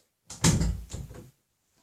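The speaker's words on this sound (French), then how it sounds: "Oh ouais, je ferme ma porte." Door closing in the video game Survivorcraft, a short wooden thud with a brief rattle as it settles, close and heard alone.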